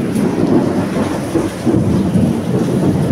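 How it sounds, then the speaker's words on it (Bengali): Monsoon rain pouring steadily with rumbling thunder rolling underneath, a dense, loud wash of rainfall close by with no voices. "ওই যে আবার বৃষ্টি চলে এলো।"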